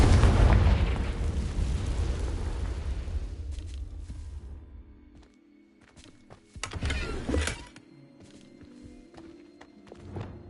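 A Confringo blasting spell erupts in a Harry Potter video game with a loud, booming explosion that rumbles and fades over several seconds, followed by a quieter second burst and scattered crackles.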